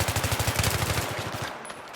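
Rapid automatic gunfire from the video game Battlefield 3, a fast, loud burst of repeated shots for most of the moment before it cuts off, with no talk over it.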